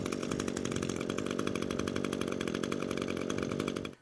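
A brush cutter's small two-stroke engine running hard, a loud, even, buzzing drone held steady for four seconds before cutting off abruptly, with no talking.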